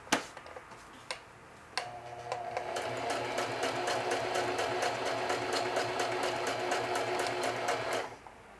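A sewing machine stitching a watch pocket, a few separate clicks and single stitches first, then a steady rapid run of stitching that stops abruptly, close and fairly quiet.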